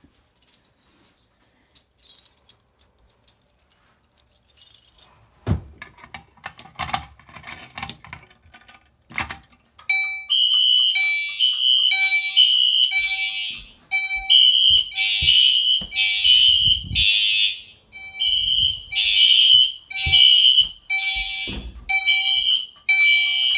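A home fire alarm system under test, set to code 3 temporal pattern, blares a loud, piercing electronic tone in repeated pulsing groups after about ten seconds of quiet handling and clicking noises.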